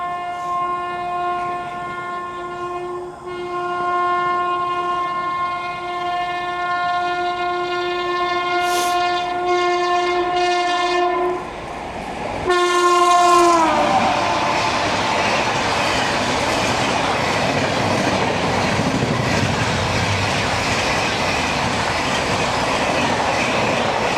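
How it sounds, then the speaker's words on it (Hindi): The Anand Vihar Gorakhpur Humsafar Express passes on Indian Railways, first sounding a long, loud, steady horn, then roaring by close with rumbling, clattering wheels that fill the rest of the pass. "तो ये गई दोस्तों आनंद विहार गोरखपुर हमसफ़र एक्सप्रेस"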